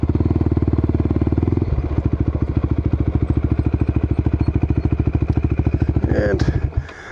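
A Suzuki LTR450 quad engine idles close by with a rapid, even thumping pulse while being parked, the rhythm slowing slightly partway through before a brief rev and cut-off at the end.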